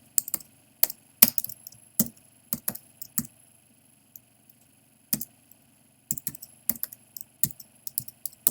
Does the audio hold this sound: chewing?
no